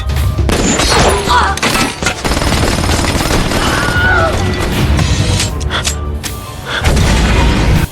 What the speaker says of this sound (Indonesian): Oren pun langsung melakukan tembakan dan akhirnya si Tandra jatuh dan mati.